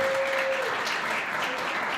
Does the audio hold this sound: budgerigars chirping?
no